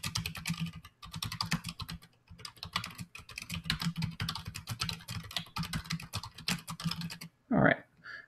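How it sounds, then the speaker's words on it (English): Steady, rapid typing on a computer keyboard, a close run of dense clicks lasting several seconds with a couple of brief pauses, then a short louder knock at the end. "then I'm going to type my instructions"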